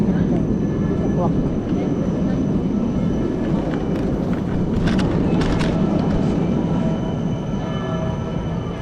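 A train rumbles past in Bern, Switzerland, a broad, steady roar that swells in the middle with brief squeals and clatter over the wheels, heard fairly close with people talking faintly nearby.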